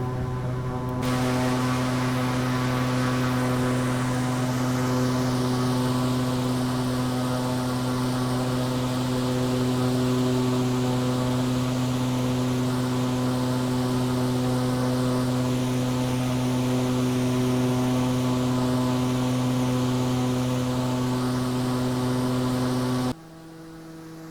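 Aircraft engine drone from a VR flight simulator game during a takeoff roll near the Grand Canyon, a loud, steady tonal hum that holds for over twenty seconds and then cuts off abruptly, with no voices.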